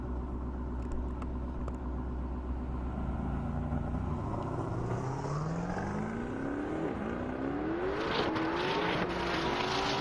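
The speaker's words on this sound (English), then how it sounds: "Peter in the AMG making a good run for it." A Mercedes-AMG makes a half-mile drag run on an airport airstrip, its engine rumbling at first and then climbing steadily in pitch through the gears as it accelerates away, loud and continuous with no talk.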